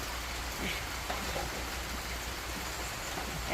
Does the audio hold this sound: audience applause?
no